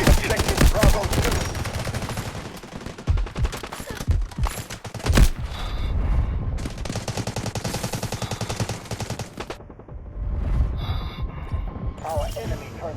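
Gunfire from an M7 Battle Rifle in the mobile shooter Delta Force Mobile, loud rapid bursts of close shots with mechanical clicks between, alongside bursts of distant battle noise.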